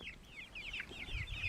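Homestead flock of chickens making soft clucking and chirping calls, a few birds vocalizing close by in quick repeated bursts over faint background noise.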